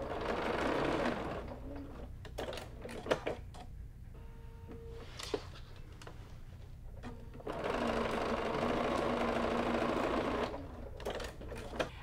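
A sewing machine stitches the handles onto a simple tote bag, running in two steady whirring stretches at close range with a brief pause and a few clicks between them.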